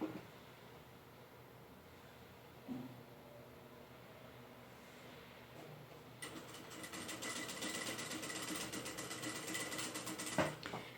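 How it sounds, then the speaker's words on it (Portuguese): Sewing machine stitching soft velboa fabric for a plush Easter bunny body, starting up after a few seconds of quiet handling and running in a steady close buzzing whir, with no talk over it. "E agora, só vou vir costurando."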